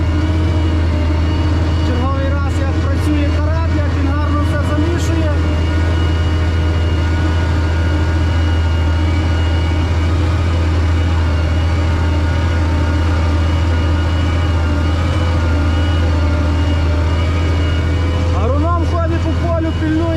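A CLAAS tractor pulls a LEMKEN Karat cultivator across a field during tillage for rapeseed at about 9–10 km/h, its steady low engine drone continuous and loud throughout, with a voice speaking over it.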